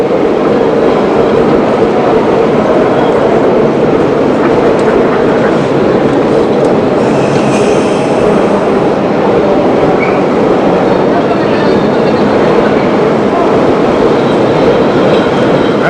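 A New York subway train carrying evening rush-hour passengers rumbles along loudly and steadily, with continuous rail and wheel noise throughout and brief faint squeals.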